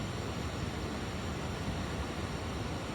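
Water bursts from the rock at Gaumukh, the glacier snout below snowy peaks, making a steady broadband rush of gushing, churning flow. It is loud and continuous throughout, with no voices.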